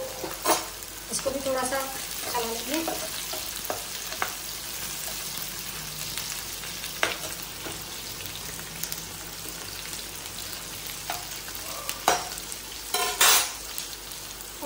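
Cashews sizzle and fry in a pan of oil for Hyderabadi chicken masala, a steady crackling hiss broken by scattered metal clinks of a spoon stirring, with a voice speaking briefly over the cooking.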